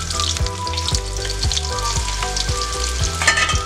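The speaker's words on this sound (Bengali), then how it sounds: "পেঁয়াজটা কিন্তু আমি লাল লাল করে ফ্রাই করে নেব" Chopped onion sizzles and crackles steadily in hot oil for a prawn masala, with a close, continuous frying hiss and a few faint stirring knocks.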